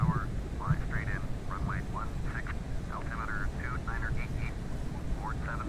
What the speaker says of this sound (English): Runway 16, Boeing 737 on final.